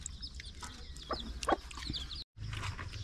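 Chickens feeding outdoors, giving soft scattered clucks and short calls close by over a steady low background, with a brief dropout near the end.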